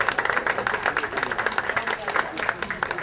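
Audience applause at an outdoor political candidate event in a park, a dense steady wash of many hands clapping at moderate distance with crowd noise mixed in.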